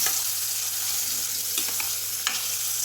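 Large pieces of nendran banana fry in a pan with a steady, close sizzle while a spoon stirs them, scraping faintly a few times.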